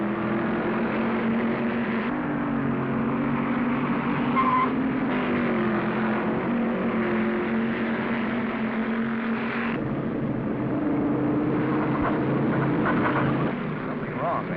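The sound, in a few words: race cars racing side by side, 1947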